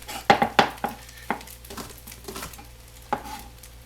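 Fried rice cooks in a pan as green onions go in, with sharp clatters of a utensil against the pan for the first second or so, then sparser scrapes and taps over a low sizzle.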